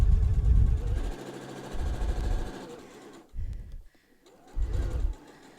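A sewing machine stitching the corner of a reversible fabric mask, running in several short bursts of rapid mechanical whirring separated by brief pauses as the fabric is turned.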